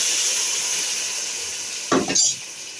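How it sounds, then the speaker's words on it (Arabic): A spoon scraping and stirring briefly through okra cooking in a pot, a short close clatter over a constant loud sizzling hiss. "واقلب كده."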